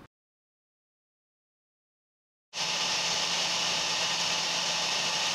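A hair dryer heats the sticker on an ink cartridge, its steady, loud blowing roar starting abruptly after about two and a half seconds of silence and holding constant to the end.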